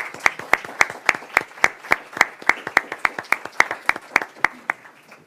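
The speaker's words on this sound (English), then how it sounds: "Let's give them a round of applause" Rhythmic, fairly sparse clapping from a small audience honoring a foreign relations council's board of directors, with steady, evenly spaced claps that are sharp and close and continue for about five seconds.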